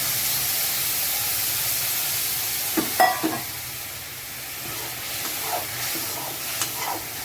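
Lemon juice with curry leaves simmers in a pan for lemon rice, giving a steady close hiss and sizzle throughout, with a few brief clinks and stirring knocks partway through.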